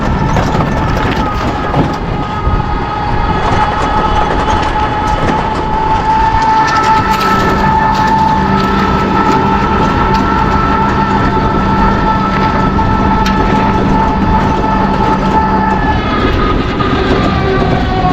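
A passenger train runs on rails on the Katwa to Falakata route toward the Dooars, giving a continuous loud rumble with a faint steady whine from on board throughout.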